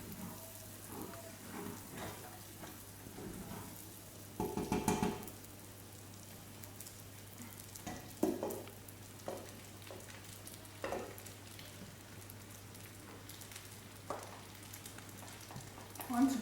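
Rice being fried in oil in a pot, a faint, steady crackling hiss broken by occasional scrapes and knocks of a utensil stirring the grains.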